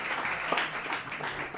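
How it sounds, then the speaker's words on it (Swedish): A crowd at a Swedish coffee championship venue gives a brief round of applause, dense clapping that stays steady across the short stretch. "Värt en applåd!"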